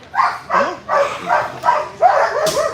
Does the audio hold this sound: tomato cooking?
no